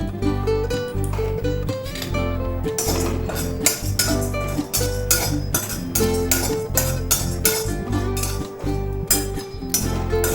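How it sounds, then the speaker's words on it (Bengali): Charmagaj melon seeds dry-roasting in a hot wok make a dense, loud run of clinking, rattling metallic scrapes and taps as the seeds are stirred, continuing throughout. "এখন আমি এখানে কিছুটা পরিমাণ চারমগজ শুকনো খোলায় ভেজে নিচ্ছি।"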